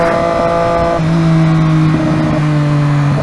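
A Triumph Daytona 675 motorcycle ridden through city traffic, its engine holding a loud, steady drone close by that drops in pitch partway through, with no talking.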